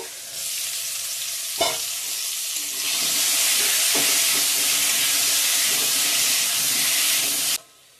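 Potatoes fry in a pan, a loud dense hissing sizzle that swells after a lid or spoon clatter, holds steady for several seconds, then cuts off abruptly.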